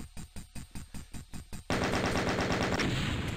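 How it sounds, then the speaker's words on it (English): Rapid, evenly spaced gunshots ring out in classic Doom (1993), about a dozen sharp cracks in steady rhythm, then give way to a loud, dense wall of continuous firing and noise. "I got a pistol"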